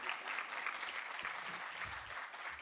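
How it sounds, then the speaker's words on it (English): An audience claps together in a short burst of applause, an even dense patter of many hands at moderate volume with no voices over it. "Thank you, Rebecca, for leading us off in that round of applause"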